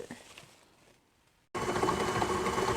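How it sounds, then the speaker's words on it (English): A stand mixer with a paddle attachment creams a stick of softened butter. After a quiet moment, its motor starts abruptly into a steady, close mechanical whir. "Here at my stand mixer, I have my paddle attachment in, and I am putting in a stick of softened butter, and I'm going to cream that"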